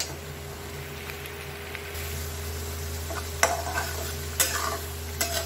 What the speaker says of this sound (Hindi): अब इसको भी कम से कम दो तीन मिनट तक चलाते रहेंगे ताकि टमाटर हो जाए